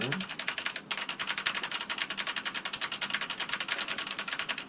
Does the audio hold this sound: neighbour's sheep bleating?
no